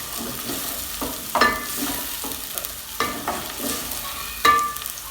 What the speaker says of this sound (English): They are not like cooked, they are sauteed, yeah?